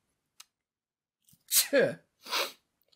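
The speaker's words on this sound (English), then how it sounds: "Excuse me, sneeze." A single close sneeze from a person on a podcast, with a short inhale just before a sharp burst and another breathy exhale after it, in an otherwise quiet room.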